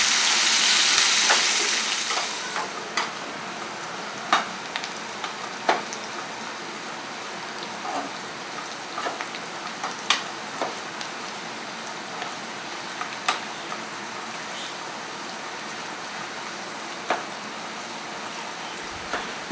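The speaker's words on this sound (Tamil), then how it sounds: "இப்போ வெங்காயம் நல்லா கோல்டன் ப்ரௌன் ஆகுற வரைக்கும் வதக்கிக்கலாம்." Onions with curry leaves and green chillies sautéing in a pan, a steady close sizzle starting loud and settling to a softer crackle, punctuated by frequent clicks and taps of stirring.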